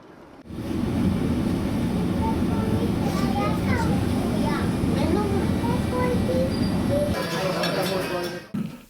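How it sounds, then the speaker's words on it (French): A city tram on line 3T rumbles steadily along for about eight seconds, with faint metallic squeals and clinks rising over the rolling noise and a murmur of voices in the background. "Nous prolongeons la visite de la ville par un tour en tramway."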